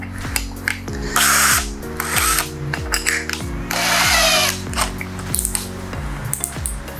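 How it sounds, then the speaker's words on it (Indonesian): A cordless DeWalt 20V drill with a PowerStack battery bores with a 22 mm auger bit at speed 2, giving a loud, repeated ratcheting, chattering grind in bursts with brief pauses, no talking. "Ini adalah auger bit, diameternya sama 22."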